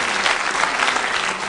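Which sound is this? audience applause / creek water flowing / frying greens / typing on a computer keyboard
audience applause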